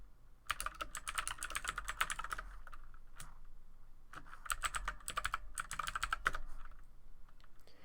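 Terminal commands typed on a computer keyboard, two close bursts of rapid, clicky keystrokes separated by a short pause, with no talk.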